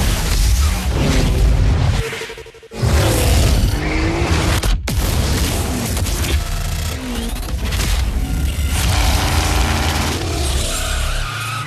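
Car-themed sound design reel sample: loud, dense layered mix of skidding tires, engine roars and race car passes, punctuated by booms and impacts, with a brief dropout midway before the action surges again.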